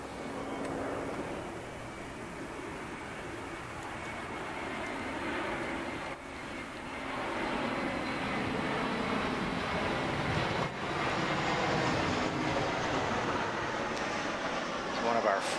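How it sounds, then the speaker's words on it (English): An airplane passes overhead during a wheelchair tennis match at the 2021 ITF Wheelchair Tennis Masters. It makes a broad, steady rumble that swells slightly toward the end, with no clear individual strokes or voices standing out. "planes goes overhead for the first time during a de Groot service game"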